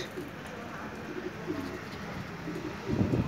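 Pigeons cooing inside a racing pigeon loft, a low soft murmur running steadily under background noise and swelling slightly louder near the end.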